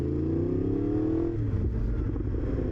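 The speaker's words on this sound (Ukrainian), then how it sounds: "У мене Акропович, титановий вихлоп стоїть, досить е, тихенько працює так." A Yamaha R1 motorcycle fitted with an Akrapovic titanium exhaust runs close by, alone: a steady, throaty engine hum that climbs slightly in pitch, then drops and settles into a rougher, lower idle.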